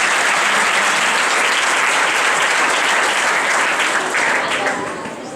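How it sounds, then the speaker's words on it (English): Steady, loud applause from a seminar audience, dense clapping filling the room throughout and tapering off slightly at the end. "Come on, claps to him."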